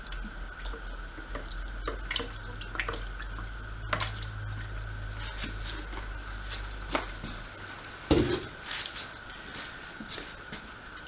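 A bottle of toilet cleaner is squeezed and liquid drips in a quiet room over a steady background hum, with faint scattered drips and one sharper splash near the end.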